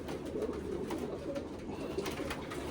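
Deoband jamuni pigeons keep up a soft, continuous cooing, low and even throughout with a few faint brighter notes over a steady background murmur.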